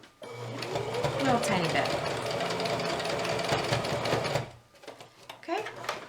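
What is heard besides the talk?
sewing machine stitching a placemat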